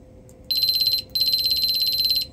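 Multimeter continuity-test beeps while probing a failed Semikron IGBT: a loud, steady high-pitched electronic tone that sounds briefly, cuts out, then sounds again for longer, with faint background hum.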